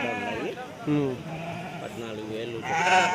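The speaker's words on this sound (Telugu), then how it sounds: "పొట్టేళ్ళు కానీ వచ్చాయి. అలాగే గొర్రెలు, పిల్లా గొర్రెలు కానీ కట్టలు కానీ ఎక్కువ వచ్చాయండి." Sheep and lambs bleat in short, wavering calls at the busy Kadiri weekly livestock market ahead of Bakrid, several animals crying one after another while people talk in the background.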